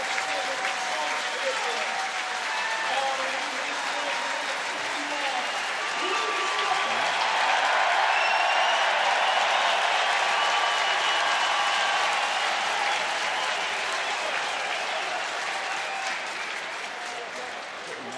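Rugby stadium crowd at a Northampton versus Saracens Premiership semi-final roaring and applauding for club captain Lewis Ludlam, a dense wall of cheering that swells through the middle and holds steady, with a commentator's voice underneath.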